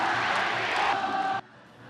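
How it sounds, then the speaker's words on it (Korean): A packed crowd of about 30,000 baseball fans at Busan's Sajik Stadium cheering loudly in unison, a roaring chant that cuts off abruptly partway through, leaving a quieter murmur. "만원 관중의 열성적인 응원"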